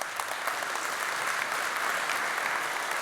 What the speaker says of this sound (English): let's give the partners a round of applause for supporting the event too.